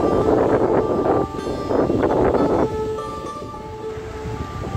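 Stormy wind gusts through a mango orchard in loud blustery surges that buffet the microphone, easing off after a few seconds, with faint tonal hums in the background.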